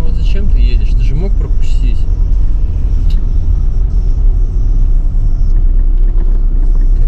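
A car drives through a snow-choked street in Krasnodar, with a loud, low, constant rumble of engine and tires. A voice speaks over it near the start.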